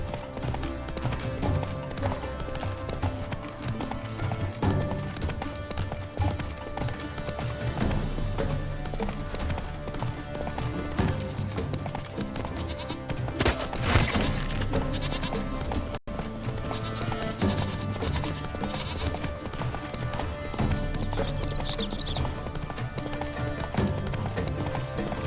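Horse hooves clip-clopping steadily on the ground in The Witcher 3, a continuous rhythmic trot under game music and ambience, with a brief whinny-like flourish midway.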